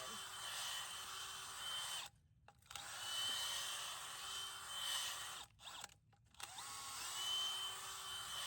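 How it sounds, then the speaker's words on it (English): A power auger churns and mixes amended garden soil in a planting hole, its motor whirring in bursts with short pauses, faint and somewhat distant. "I like to give it a good mix with this auger again."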